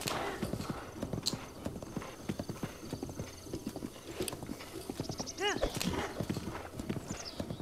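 Horse hooves clip-clop steadily in a video game as the mount follows a path, with an occasional whinny and game sound effects layered over the rhythmic steps.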